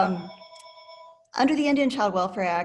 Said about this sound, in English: I think that's my phone ringing